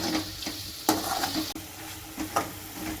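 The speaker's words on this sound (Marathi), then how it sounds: "आणि आता टमाटरना मी दोन मिनटं चांगले शिजवून घेणार आहे" Tomatoes cook in a pan for chicken biryani, a steady sizzle broken by a few sharp scraping stirs of a spoon against the pan, close and fairly loud.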